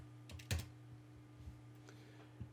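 A few quiet keystrokes on a computer keyboard while a search query is typed, soft scattered clicks with no voices.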